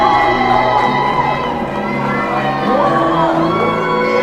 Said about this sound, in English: As the crowd goes wild